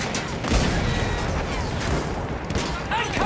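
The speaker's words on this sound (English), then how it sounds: "Those machine guns are holding our lads back." Battlefield 1 combat mixes a dense, sustained fusillade of World War I machine gun fire with explosions, heard loud and continuous throughout a short stretch, while soldiers' voices call out under the gunfire.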